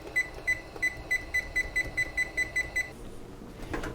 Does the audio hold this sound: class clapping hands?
no